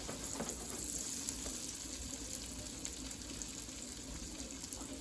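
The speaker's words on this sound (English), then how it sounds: "Now you just let those sizzle a bit." A steady, soft sizzle of bell peppers frying in butter in a pan, a constant crackling hiss with faint spatters, no voices.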